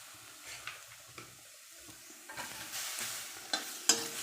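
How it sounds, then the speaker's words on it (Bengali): Onions frying in a pan on lowered heat while being stirred, starting as quiet scraping strokes and swelling into a brighter sizzle with clinking utensil taps near the end, close with no talking. "পেঁয়াজটা এভাবে নাড়লেই দেখবেন আপনাদের"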